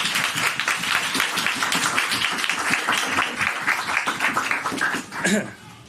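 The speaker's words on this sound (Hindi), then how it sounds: "फिर ताली बजाएं खुदा के लिए।" A church congregation claps during a sermon, a busy patter of many hands that runs steadily and ends with a short sharp burst, with voices mixed in.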